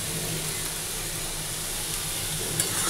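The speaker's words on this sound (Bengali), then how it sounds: "আলু ভাজাটা না লেগে যাচ্ছে কেন," Potatoes frying in a wok that may not be hot enough, a steady broadband sizzle running evenly throughout with no voices.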